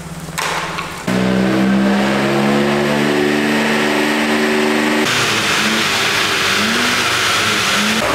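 A car engine revs hard on a dynamometer test bench with a cooling fan blowing on it, the tone climbing and holding loud and close before the throttle changes and it settles into a rougher, lower drone.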